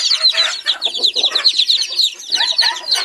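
A flock of chickens clucking and chattering continuously, loud and close, with overlapping calls and no voices.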